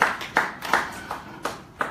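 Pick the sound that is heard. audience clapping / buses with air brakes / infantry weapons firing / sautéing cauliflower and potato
audience clapping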